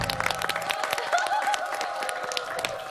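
A studio audience on a Korean variety show applauds as the actors are introduced, many hands clapping in a dense, moderately distant patter, with background music playing underneath.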